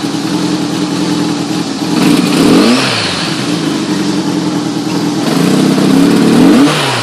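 A Honda GL1200 motorcycle engine runs loud and close after the choke is backed off, holding a rough idle and rising twice into brief revs before settling back.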